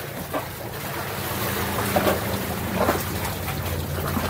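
Sea waves surge onto a flooded house veranda in a coastal village, a continuous close roar of rushing water and wind with faint splashes rising and falling.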